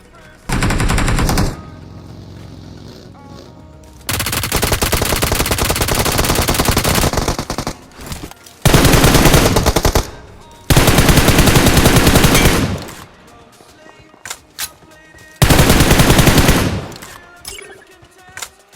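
Bursts of automatic gunfire from a BGMI battle royale match come in long, loud rattling volleys separated by short pauses, with some faint single shots between them.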